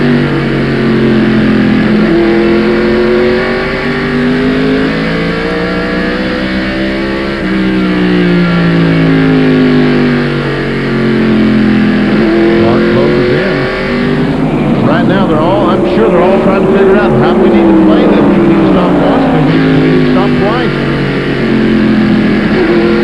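NASCAR stock cars race at North Wilkesboro in 1995, with an onboard engine roaring loud and close, pitch climbing and dropping through gear changes and corners, under steady commentary.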